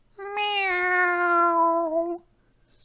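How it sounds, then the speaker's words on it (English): A single drawn-out cat meow, as from the cat in a Bob the Builder read-aloud, sounding clear and close for about two seconds, alone with no talk. ""Meow," said Pilchard."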